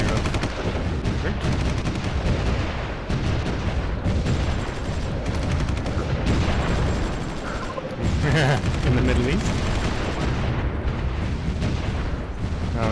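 Dense bursts of gunfire and explosions rattle through a BattleGoat Studios war strategy game, loud and continuous with rapid crackling volleys and heavy booms, while a person talks briefly over the battle.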